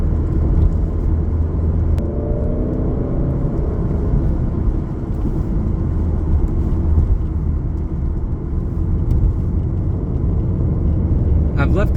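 An Alfa Romeo Giulia with its automatic gearbox laps Blackhawk Farms Raceway in the rain, a loud, steady engine drone and road rumble filling the cabin without a break, with a faint whir riding above it.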